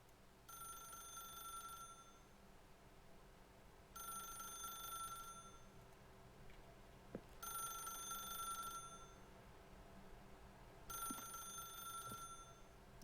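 An old-style telephone bell in a video game rings four times in evenly spaced bursts, each lasting about a second and a half, fairly faint over a low background hum with no talking.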